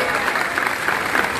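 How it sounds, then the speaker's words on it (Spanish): Outdoor rally audience in Barrancas, La Guajira, clapping in a dense, steady wash of applause that continues evenly from start to finish. "Ese aplauso fuerte"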